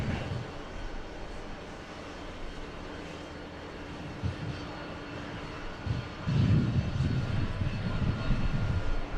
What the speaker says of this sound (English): The big A350 1000, Japan Airlines 4, flying in from Haneda